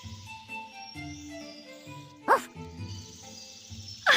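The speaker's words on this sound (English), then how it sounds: "Max, you cheeky dog." A dog named Max gives two short, sharp barks, one midway and one at the end, over a soft background of speech and music.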